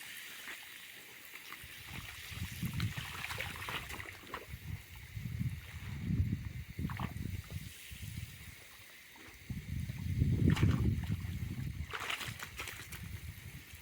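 Water splashing and pouring like a small waterfall in an enclosure for Vietnamese pot-bellied pigs, heard as sloshing bursts and a louder gush near the end, with faint background noise.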